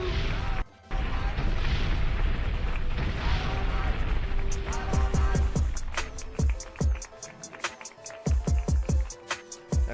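In a video game, a roaring explosion blast rumbles loudly, then a rapid series of sharp booming impacts follows in quick succession.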